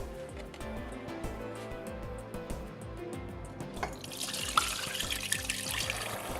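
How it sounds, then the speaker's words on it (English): Braising sauce from lamb shanks is poured into a pan, a steady liquid trickle and splash heard close up. It grows louder and more spattering in the second half. "Now very carefully transfer this sauce to the pan."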